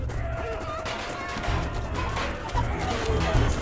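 Chickens cluck amid battle noise in the game Totally Accurate Battle Simulator: clucks scattered over dense crashes and gunfire-like bursts, with some voice in the mix.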